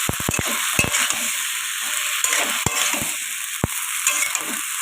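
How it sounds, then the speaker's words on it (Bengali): Garden-grown vegetables fry in a pan, with a continuous loud hiss of oil and a few sharp knocks of a spatula stirring them, close up and with no voices. "আমি ভালো করে একটু ভেজে নেব"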